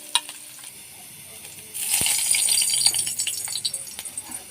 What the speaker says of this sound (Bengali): মাছটা আমার এখানে ভাজা হয়ে গেছে